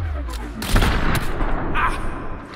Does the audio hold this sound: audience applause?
no